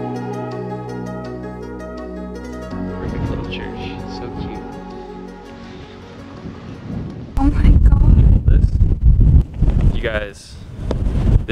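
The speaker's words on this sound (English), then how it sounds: "I am layered up because it is so cold and windy outside." Cold, gusty wind blows outdoors on a road trip through Tuscany, buffeting the microphone in loud, rough bursts that build up in the second half, over a background of music.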